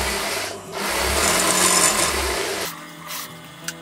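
A sewing machine stitches a blouse in a close, continuous whirring run that speeds and slows, then stops, leaving a few quiet handling sounds and a small click.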